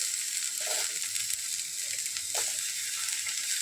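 Small sambar onions (shallots) with fennel seeds fry in oil in a kadai, making a soft, steady sizzle with occasional light stirring scrapes.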